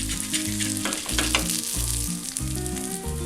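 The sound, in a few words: fish frying in oil with curry leaves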